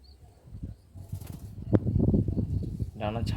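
A restless short-size Madras pigeon held in the hand flutters its wings in a brief rustling burst, followed by handling noise, with someone talking over it.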